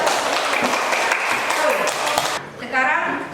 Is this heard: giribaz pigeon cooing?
no